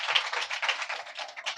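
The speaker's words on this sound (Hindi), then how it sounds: "तालियां।" A church congregation claps during a sermon, a brief, faint burst of many hands clapping in a rapid, uneven patter.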